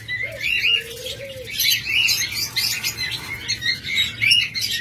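Cockatiels and lovebirds for sale crowd the air with constant overlapping chirps and shrill tweets, many birds calling at once without pause and no voices.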